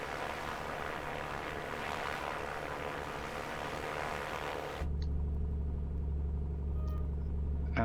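A Piper Comanche light aircraft in Microsoft Flight Simulator 2024 runs a steady engine roar that suddenly shifts partway through to a deeper, louder, more tonal drone as power comes up for takeoff, with no talking.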